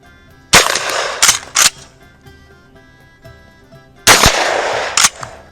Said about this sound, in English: the KSG really cycles the mini shells